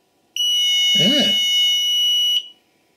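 A 1990s 6th Sense International intruder alarm sounds a loud, piercing steady electronic tone for about two seconds before cutting off. A voice speaks briefly under it.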